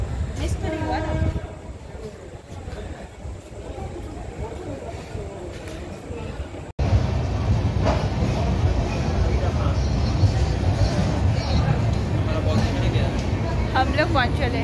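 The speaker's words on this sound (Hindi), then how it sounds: "ट्रेन लेट है, आ रहा है ना, ये देखो आ गया तू" A train pulls into a busy Indian railway station, its rumble building and a horn sounding amid crowd noise, with people talking nearby throughout.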